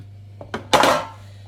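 Avocado and sweet potato brownie batter is scraped into a pan with a utensil, giving a few brief clicks and taps followed by one louder, close scraping stroke, then quiet.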